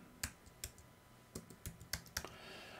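Typing on a Mac computer keyboard, a handful of separate, irregular key clicks, close and fairly quiet, with no talk.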